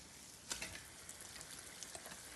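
Coarsely ground urad dal roasts in ghee in a pan for kheer, giving a soft, steady sizzle with light scraping stirs and a few small crackles, close and unbroken.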